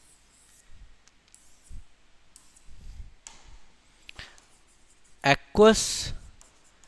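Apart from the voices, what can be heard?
writing on a board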